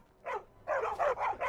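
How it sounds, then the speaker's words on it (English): A dog in the video game Skyrim barks in quick, sharp yips, one bark then a fast cluster of three or four, close and clear against a quiet background. "We found a dog."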